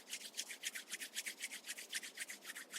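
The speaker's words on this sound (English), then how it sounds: "Start rubbing your both palms against each other." Two palms rub briskly back and forth against each other in a steady, even rhythm of soft, close, dry swishing strokes, with no talking.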